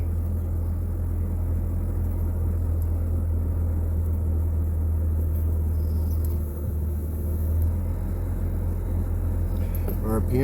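A car engine idling steadily after an oil change on a 200k-mile vehicle, a continuous low rumble that holds even throughout, heard close by.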